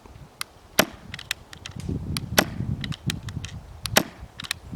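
A Tokyo Marui MK23 airsoft pistol fires 0.4 gram BBs in several sharp, close, snappy cracks spaced unevenly, with faint knocks and handling noise between the shots.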